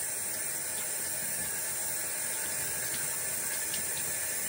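Water runs from a tap kept on low into a sink during a glass-etching jar craft, a steady, close hiss that continues without pause and without any talking.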